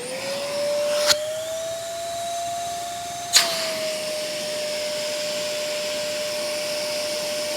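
A Zero G Platinum canister vacuum cleaner runs alone with a steady, close motor whine, interrupted twice by brief sharp pitch shifts as the suction changes.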